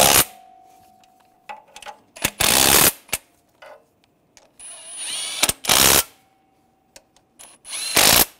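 A power drill or impact tool fires in several short, loud whirring bursts with pauses between them, close up, running down exhaust manifold nuts on a 2013-2016 Dodge Dart catalytic converter manifold assembly.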